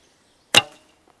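A single sharp thwack from a Crimean Tatar laminated bow loosing a 420-grain arrow, a loud, brief broadband snap with a short decaying tail, followed by near silence and a couple of faint small clicks.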